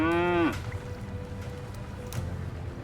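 A cow moos once in Surviving the Aftermath, a loud, low drawn-out call lasting about half a second, then quieter game ambience with soft thuds.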